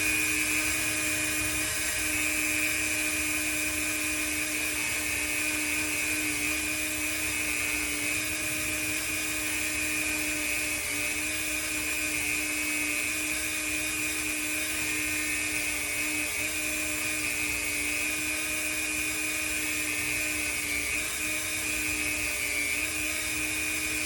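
A Dremel rotary tool grinds custom Micarta knife scales with a constant high-pitched whine that runs steadily and loud throughout, with no talking.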